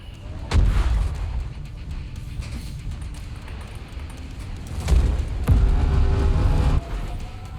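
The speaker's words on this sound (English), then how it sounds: "They just demolished a fuel tank." Fuel tank explosions in the MechWarrior 5 video game: sharp heavy booms followed by rolling rumble, with a second pair of blasts a few seconds later and steady battle noise in between.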